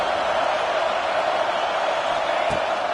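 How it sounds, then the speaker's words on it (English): A packed college football stadium crowd at Oklahoma roars continuously to rattle the opposing offense, a dense, sustained wash of distant cheering with no break in volume. "Listen to this crowd just shaking the girders of this place, trying to help their defense."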